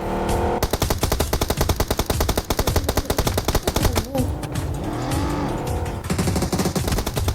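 Rapid automatic gunfire from the PUBG video game rattles in long loud bursts, mixed with vehicle engine noise, while a player talks over the shooting.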